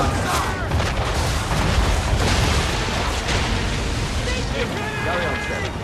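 Broadside cannon fire from a sailing warship during a naval battle in Assassin's Creed 3, with deep booms rolling under sea wash and wind, shouting voices and crew noise mixed throughout.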